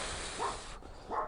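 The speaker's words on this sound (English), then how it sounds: "That dog should be tired of barking" Two short dog barks, a second or so apart, fairly distant against a steady background hiss.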